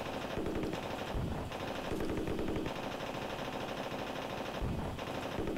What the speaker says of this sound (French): Il tire sur le mur, il s'excite.